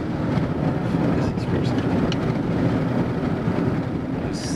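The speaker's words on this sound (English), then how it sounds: "I gotta race the tractor trailer so it doesn't run me down." A tractor trailer truck rolls past on the road with a loud, steady, heavy rumble that fills the whole stretch, close by and unbroken.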